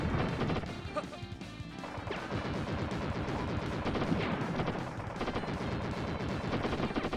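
Enemy gunfire in the Wild Guns shooter game, rapid bursts of shots with crashing impacts and explosions over busy game music, loud and nearly continuous.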